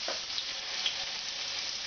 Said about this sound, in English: then you saute the meatballs